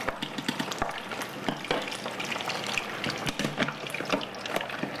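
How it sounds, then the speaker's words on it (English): A battered onion blossom frying in very hot grease, a close, steady sizzle full of crackling pops and spits that keeps going throughout. "And then we just stick it in the very hot grease."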